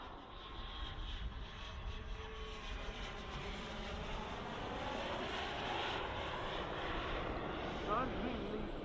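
Model airplane engine droning steadily in flight at a model airshow, a sustained buzzing tone that swells slightly toward the end, heard at moderate distance under a wash of outdoor crowd noise and talk.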